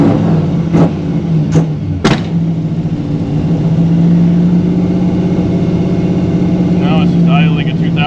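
A 1955 Chevy Nomad gasser engine idles steadily around 2000 rpm with a low, even hum throughout, with a few sharp knocks near the start and a brief rattle toward the end.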